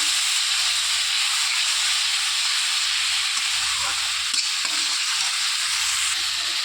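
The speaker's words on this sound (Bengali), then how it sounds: "তেলের ওপর মশলাটা দিয়ে লবণ আর হলুদ দিয়ে দিয়েছি, দিয়ে ভালো করে কষিয়ে নেব মশলাটাকে" Spice paste with salt and turmeric fries in hot oil in a wok, giving a loud, steady sizzle and hiss throughout, with low scraping stirs now and then.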